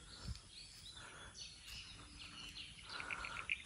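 Birds and parrots call at a large Shiva temple, a mix of scattered chirps and whistles at moderate distance over a faint outdoor background, with no talk.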